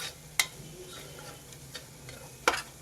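Chili powder and spices fry in a pan for Punjabi-style dum aloo, giving a low steady crackle with two sharp ticks of a spoon against the pan, close and without talk.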